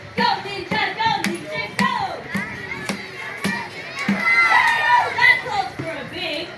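A crowd of children and adults at a SeaWorld ninja turtle show shouts a cheer together, voices loud and massed with sharp bursts and claps rising over a steady din.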